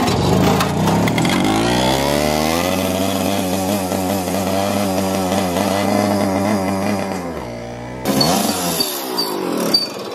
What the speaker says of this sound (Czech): motor na 72 trysku jde kurevsky špatně do otáček